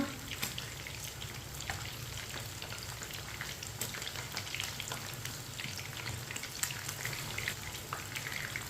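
Chicken pieces frying in oil in a pan: a dense, even sizzle and crackle with scattered pops that holds steady and fairly loud throughout, with no talking.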